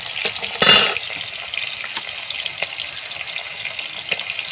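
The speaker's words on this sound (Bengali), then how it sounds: "মাছ ভাজা হচ্ছে।" Fish fries in hot oil in a pan in a home kitchen, giving a steady close crackling sizzle with a brief louder spatter burst near the start, and no talking.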